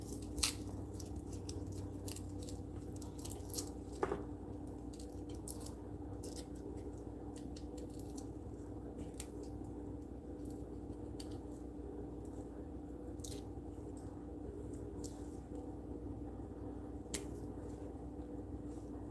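Garlic being cut for dinner on a board gives faint, sparse, sharp cuts and snips scattered over a steady low background hum, quiet and close with no talking.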